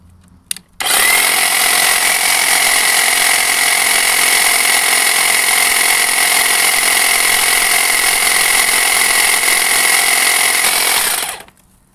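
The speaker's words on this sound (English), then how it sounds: "now we're gonna go ahead and plug in our hedge trimmer to see what we're gonna get." Electric hedge trimmer powered from an Oupes 1200 solar power station, running steadily and loudly for about eleven seconds with a constant high buzzing whine, then cutting off.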